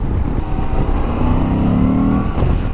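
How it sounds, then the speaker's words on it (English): A Moto Guzzi V85TT motorcycle engine hums steadily up close, its air intake giving a throaty drone with a rising whine as revs climb briefly. "You hear the air intake of the engine"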